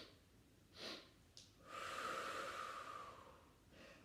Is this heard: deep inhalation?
yes